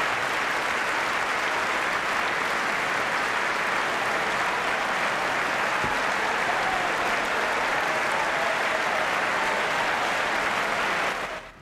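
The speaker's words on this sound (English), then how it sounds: "Many of the Democratic lawmakers were cheering" Democratic lawmakers at the State of the Union cheer and clap in a large chamber, a dense, sustained wave of applause that stays loud and even for over ten seconds before cutting off.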